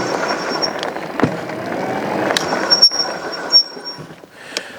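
E-bike brakes squeal in several sharp, high-pitched bursts, some brief and one longer, over a steady rolling hiss of tyres and riding noise.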